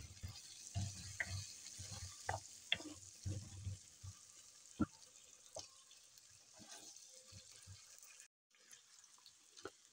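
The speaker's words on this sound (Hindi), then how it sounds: "आलू फ्राई हो रहे हैं इसके अंदर" Potatoes frying in a pan, a faint sizzle with intermittent clinks and scrapes of a spoon, quiet and somewhat distant, with a short gap of near silence late on.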